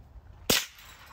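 A single sharp gunshot fired at hanging cans and light bulbs on the ground in an outdoor shooting setting, one loud crack with a short tail, clear and close.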